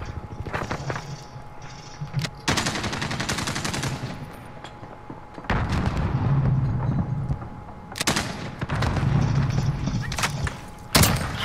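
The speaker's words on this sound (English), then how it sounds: "This guy's using the automatic shotgun." Bursts of rapid shotgun fire from an automatic shotgun in a video game, loud repeated blasts separated by quieter gaps, with faint voices underneath.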